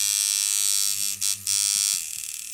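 A Sidewinder 7.5 rotary tattoo machine runs at about 4.5 volts, giving a steady high buzz that briefly stutters and stammers before resuming, close and alone.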